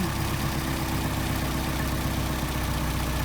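An engine fitted with a Solex carburetor idling after its idle screws are turned down, a steady low rumbling drone with even vibration, close and unbroken, no voices.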